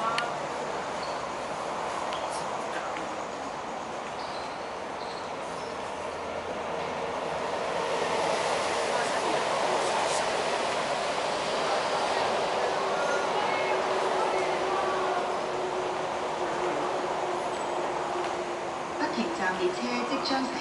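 An SS8 electric locomotive hauls a non-stop train through MTR Fanling station in Hong Kong, a long rising and sustained rumble of wheels and motors passing close by, with a faint tonal whine running beneath it.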